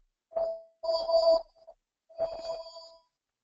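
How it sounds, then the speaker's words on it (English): A phone rings during an online call, three short buzzing ring bursts with brief gaps between them, fairly quiet and otherwise alone. "I'm not going to answer my phone,"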